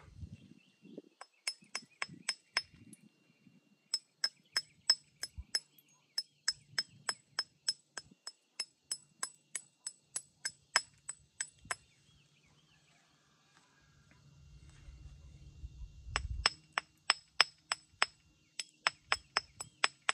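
Agatized coral is knapped into a six-inch knife, producing crisp, glassy clinks struck close by in quick, regular bursts. A brief low rumble of handling and a short pause separate the runs of strikes.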